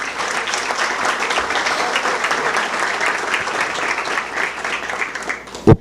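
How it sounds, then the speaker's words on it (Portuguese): An audience at a 2016 election debate session claps in sustained, dense applause for several seconds, steady and close, ending with a sharp thump. "o senhor Sérgio Montanheiro, a quem eu peço uma salva de palmas."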